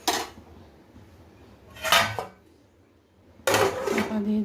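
A metal lid clatters onto a cooking pot in three separate bursts of clanking and rattling, close by, as potato, eggplant and hilsa fish curry is covered; quiet gaps fall between the bursts.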